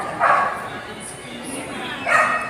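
A dog in a parking area gives two separate barks a couple of seconds apart, moderately close against a quiet background.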